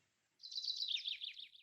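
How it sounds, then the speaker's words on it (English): An email notification chimes with a bird-like chirping warble, a single quiet, bright trill lasting just over a second, with nothing else around it. "That's an email. That's not a real bird."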